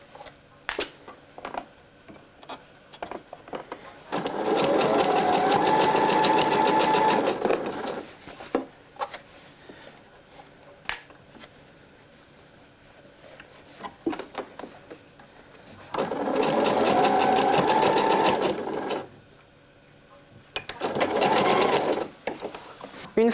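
Sewing machine basting a ruffle seam at 9 mm from the edge, three separate bursts of fast, steady stitching, each a few seconds long, with quiet handling clicks and rustles between them.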